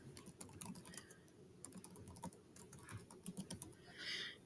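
Keys clatter in quick bursts on a computer keyboard as a name is typed into a Tinkercad design field, close and clear, with short pauses between runs of keystrokes.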